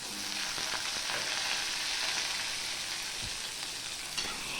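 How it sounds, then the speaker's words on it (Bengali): Cubed potatoes frying with cumin-seed tempering in oil for a vegetarian papaya curry, a steady dense sizzle with faint stirring scrapes throughout, close and continuous with no talk. "এবার আলুগুলোকে আমি একটুখানি করে ভেজে নেব ফোড়নের সাথে।"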